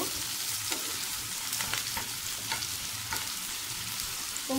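Chopped onions are stir-fried in a pan, with a continuous moderate sizzle and a few soft clicks of stirring throughout, and no voices.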